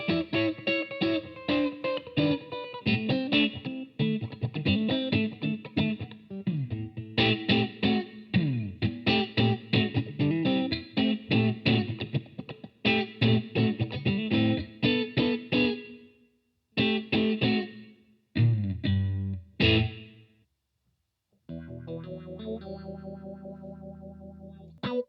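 Electric guitar through GTRS presets plays steady riffs soaked in echoing delay and reverb, notes trailing into each other, with a few brief pauses before a shimmering final passage.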